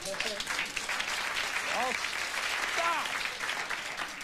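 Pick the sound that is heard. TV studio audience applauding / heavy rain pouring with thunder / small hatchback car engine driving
TV studio audience applauding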